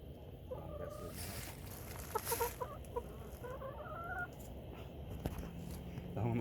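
Backyard chickens cluck and murmur close by, with several short overlapping calls rising and falling while people talk quietly in the background.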